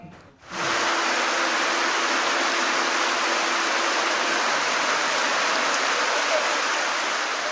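Heavy monsoon rain pours down in Bangladesh, a dense, even hiss that starts abruptly and holds steady at the same loudness, with no voices over it.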